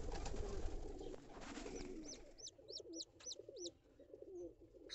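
Soft, low coos from a pigeon brooding bantam chicken eggs, repeating in short rhythmic phrases, with thin high chirps from a newly hatched chick close by and some rustling at the start.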